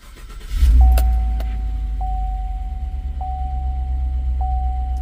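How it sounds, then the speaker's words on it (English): A 2018 Chevrolet Silverado pickup with a P0449 fault code cranks briefly and fires into a steady low idle right up close. A chime repeats about once a second over the rumble, and no one speaks. "I'm going to go ahead and start the truck now"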